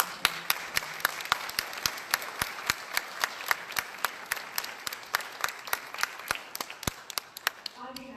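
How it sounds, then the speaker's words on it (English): An audience claps at a chamber of commerce candidate forum in Farmington, first as a brisk, sparse patter of individual claps and then as a steady round that slowly thins out. "We have a big round of applause for our"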